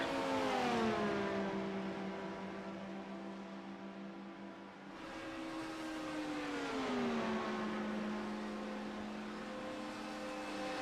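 Porsche GT3 race car engine in a racing video game, revving high and shifting through gears in two rising-and-falling sweeps, loud and close with no talk.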